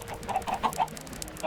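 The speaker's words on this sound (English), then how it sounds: "there's a bunch of clucking." Chickens cluck repeatedly from a chicken farm in Minecraft, several short, fairly close clucks in an irregular rhythm over a faint background, with no talking.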